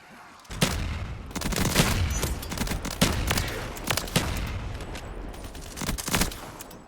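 Rapid gunfire from a Black Ops 3 custom zombies map, dense bursts and repeated shots crackling steadily for several seconds at close range.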